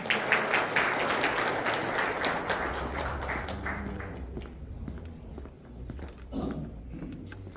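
An audience at a citizens' forum on barefoot walking in city parks applauds, a dense burst of clapping that tapers off after a few seconds, leaving faint scattered claps and a low rumble.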